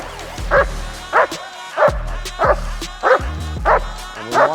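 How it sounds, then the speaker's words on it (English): A protection-trained dog barks on command in a steady rhythm, seven loud, close barks spaced roughly half a second apart. "the dog should engage in barking next to me"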